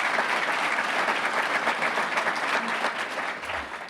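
An audience at the 2019 Roseville, California State of the City Address applauds in a dense, sustained burst of clapping that tapers slightly toward the end.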